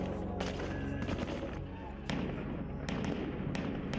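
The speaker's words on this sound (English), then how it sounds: "Guns, he learned to fire them." Gunfire sounds as a series of sharp cracking shots, some in quick bursts and others spaced out, over a dense continuous background clatter and rumble that lasts throughout.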